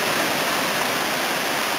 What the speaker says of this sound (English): a case where you can just see water flowing, right? But somehow you see this as a shockwave. It's called a hydraulic jump.